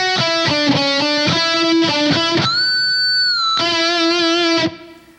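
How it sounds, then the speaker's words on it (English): Loud distorted electric guitar from a power metal solo: a run of fast picked notes, then a squealing pinch harmonic bent up a whole step and held, released back down, followed by more picked notes before fading out. "you actually do a pinch harmonic"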